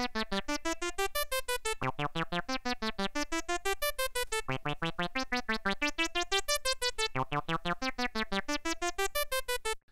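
Synth arpeggiator running a sequence split into four parts, alternating forward and backward passes, bright plucked notes in a steady fast rhythm, rising and falling in pitch, loud and alone throughout.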